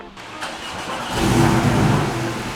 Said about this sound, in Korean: 포르쉐 같은 경우에는 시동 거는 게 이 오른쪽에 있는 게 아니라 왼쪽에 위치하고 있습니다. 이쪽을 돌리시면 됩니다.